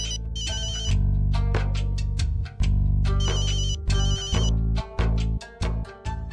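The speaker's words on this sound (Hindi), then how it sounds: "मैं तो हरलीन का फोन आ गया, मैं नहीं चुकना इहदा फोन" A phone ringtone plays loudly as a repeated melodic ring, with rhythmic bursts that stop and start through the whole stretch.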